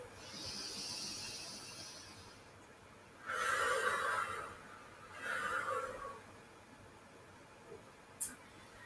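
Two slow, close breaths during a gentle guided stretching session, each a soft airy inhale-exhale lasting about a second, separated by quiet, with a brief faint click near the end.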